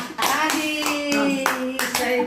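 Applause from a family audience at a home gift-unboxing gathering, steady clapping with repeated sharp bursts running the whole moment, close and fairly loud, with a sustained voice or tone running through it.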